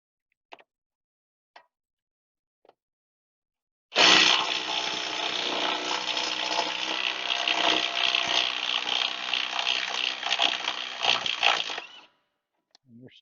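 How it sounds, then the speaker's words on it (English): A Ryobi impact wrench, the smaller of two, rattles loudly and continuously for several seconds while removing wheel hub bolts on a Ford F150 Raptor or Expedition 4WD hub, with a few faint clicks before and after. "Ryobi impact. This is the smaller of the two."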